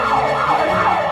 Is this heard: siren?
yes